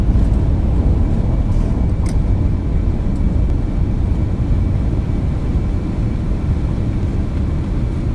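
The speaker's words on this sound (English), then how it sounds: "Reversers are out." Airliner thrust reversers deployed during a landing rollout in the X-Plane 11 flight simulator, arriving at Oakland: a loud, steady low roar of engine noise that stays dense and constant throughout, with no talking.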